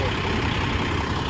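A tow truck engine idles in the rain with a steady, loud, unbroken rumble that continues without variation.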